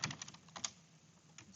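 A few quick clicks from typing on a computer keyboard while entering settings in a Docker Compose file, bunched near the start with one last tap, close and fairly faint, no talk.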